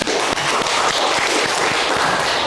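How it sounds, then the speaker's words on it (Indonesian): Audience applause for the participants of an innovative-teaching competition at a school event, a dense, steady wash of clapping with scattered sharper claps, filling the whole stretch without letting up. "Kita kasih tepuk tangan untuk semuanya."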